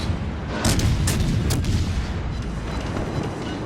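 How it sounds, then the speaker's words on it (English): Main guns of a Soviet Gremyashchy destroyer firing in World of Warships Legends: a few heavy booms near the start over a dense, continuous low rumble of battle noise. "I'm going to start hitting him with these rounds, and we're going to get a bunch of hits here with the main guns"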